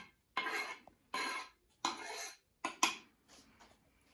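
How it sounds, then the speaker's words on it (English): A knife scraping elderflowers off a surface into a bowl for cordial: four or five short, crisp scrapes and clinks in a steady rhythm, close and fairly quiet, with no talking. "Push it all off with the knife, make sure you get it all in there"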